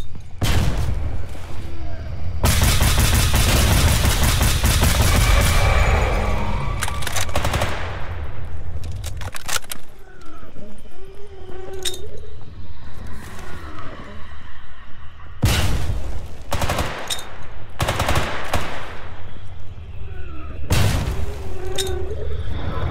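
Automatic gunfire from a weapon fired from the hip in the video game STALKER GAMMA comes in several long, loud bursts separated by short pauses, with faint game sounds in between.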